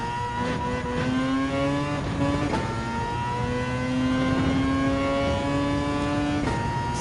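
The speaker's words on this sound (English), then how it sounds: "I really love the sound of the rotary engine just to be going well here" Rotary-engine race car in Gran Turismo 7, its engine revving high with rising and falling pitch sweeps as gears shift, loud and continuous with no talk.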